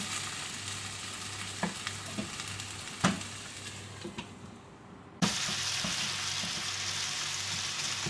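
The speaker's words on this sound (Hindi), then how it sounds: "टमाटर डालने के बाद हम इसको थोड़ी देर पकाएंगे ढक के, ताकि हमारे टमाटर अच्छी तरह गल जाएं।" Chopped tomatoes frying in a pan for chicken biryani masala, a steady bright sizzle with a few clinks of a stirring spoon. A short quieter gap gives way to a louder, fuller hiss.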